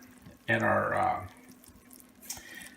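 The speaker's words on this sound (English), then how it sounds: "we're pouring that mixture into our pot here with our yeast" Liquid yeast mixture for challah bread dough pours into a pot in one fairly loud splashing rush lasting under a second, then trails off into faint drips.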